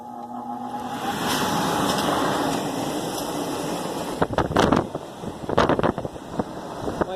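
A garage heater blows warm air in a steady, even whoosh for several seconds, followed by a few sharp clattering knocks nearby over the continuing airflow.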